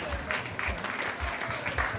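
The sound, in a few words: audience applause for champions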